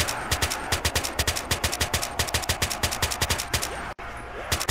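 Rapid bursts of gunfire from a Roblox shooting game, a steady stream of sharp, loud shots repeating for several seconds before a brief cut and a few last shots, with faint voices underneath.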